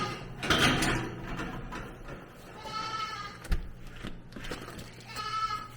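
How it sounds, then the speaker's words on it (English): Dairy goats on a family farm bleat in a few drawn-out, wavering calls, moderately close, with barn clatter and a brief knock between them. "Then we can go to our dairy goats."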